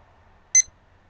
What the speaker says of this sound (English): I'm going to set my timer